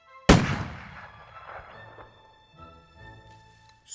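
A single loud cannon blast booms out at once, then decays into a long rumbling tail that fades over several seconds.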